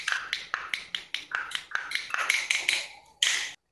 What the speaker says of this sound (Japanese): これは1つのカスタネットで開き具合を変えて音の高さが変えられるというカスタネットです